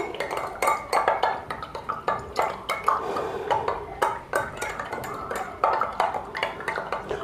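Salt being stirred into water in a glass beaker, with a spoon clinking and scraping against the glass in quick, repeated taps throughout, close and fairly clear with no talk over it.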